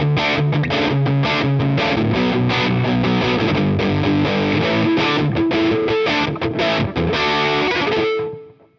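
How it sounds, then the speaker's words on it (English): A distorted electric guitar through a Fender Hammertone Distortion pedal and Marshall SV20 amp plays a chord-driven riff with a thick, saturated tone, ringing out and fading at the end. "I really don't like this distortion pedal with the Marshall SV20."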